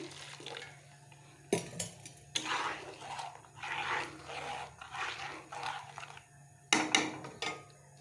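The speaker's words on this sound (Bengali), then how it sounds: "এই দেখো আমি জল দিয়ে দিচ্ছি" Water is poured into a frying pan of boal fish curry, giving several short splashing and hissing bursts with clanks of the pan in between, close and moderately loud.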